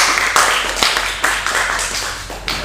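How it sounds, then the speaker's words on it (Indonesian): A small classroom group claps for a student during a teaching session, giving a few scattered, sharp hand claps rather than a full ovation, close by and sparse. "tepuk tangan dulu buat Diva."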